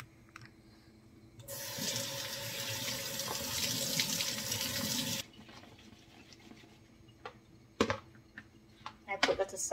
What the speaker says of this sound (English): Now that I've washed the pumpkin